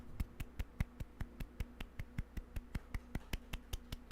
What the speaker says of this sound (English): Small golf clap.